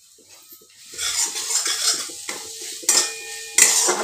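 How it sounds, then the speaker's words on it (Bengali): Ginger garlic paste dropped into a pan of egg curry base with tomato and stirred, giving clinking spoon-on-pot scrapes and soft sizzling that grow louder, with a few sharp metallic knocks near the end. "আদা রসুন পেস্ট দিয়ে দিচ্ছি।"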